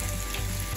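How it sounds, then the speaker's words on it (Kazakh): Onions and tomatoes fry in a pan with a loud, dense sizzle, heard close up in a brief burst with no talking. "Ал пиязымыз, помидорымыз біршама қуырылды, енді үстіне жұмыртқа жарамын."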